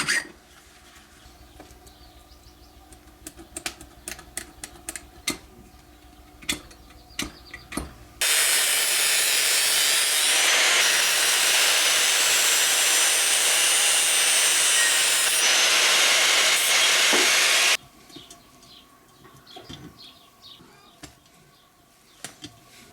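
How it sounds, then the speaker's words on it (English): A hand file rasps the freshly cut ends of square metal tubes in one long, loud, continuous stretch, framed by scattered clicks and handling noises before and after. "use a file and clean the ends of each cut you made"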